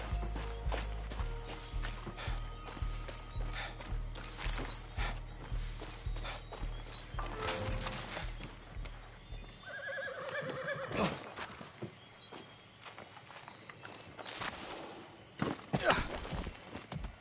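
Horse in Far Cry 6 whinnies loudly over a low droning game score, followed by scattered hoofbeats, rustles and clatter as it moves off, with no talk.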